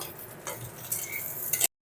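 Brief scraping and stirring of cauliflower in a frying pan, a spatula rustling it against metal over a faint sizzle, close up.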